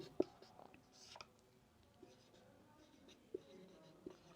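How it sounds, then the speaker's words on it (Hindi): Quiet pen strokes on paper during a study lesson, with soft scratching and a few sharp taps close by in a hushed room. "लिखेंगे सरदार"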